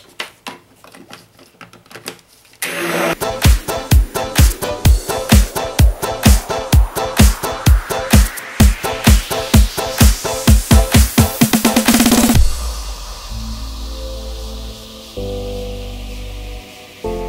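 A motorized blender whirs in rapid pulsing bursts, then settles into a steadier grinding hum as it mixes cold process soap.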